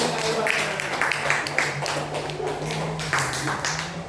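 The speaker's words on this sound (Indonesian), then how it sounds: "Oke, tepuk tangan dulu." Classroom of schoolchildren applauding together, a steady patter of hand claps running throughout at moderate volume with a faint low hum beneath.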